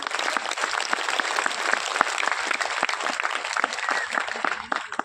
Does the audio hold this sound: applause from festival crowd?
yes